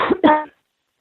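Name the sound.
coughing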